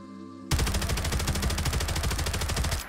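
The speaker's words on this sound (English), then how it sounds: "firepower of the Rheinmetall Maschinengewehr 34" MG34 machine gun firing in a Fallout 4 mod, a sudden burst that starts after a short quiet lead-in and runs as a dense, loud, rapid string of close shots before cutting off.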